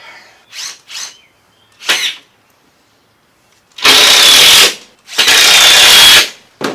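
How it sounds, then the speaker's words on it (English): A power driver sinks 1 1/4 inch screws into wooden shop shelves in a series of short whirring bursts, a few brief ones and then two longer, louder runs, separated by near-silence. "Now to drive some screws in, I picked up some 1 1/4 screws to fasten these shelves in place"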